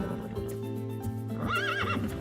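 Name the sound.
horses neighing and hooves clip-clopping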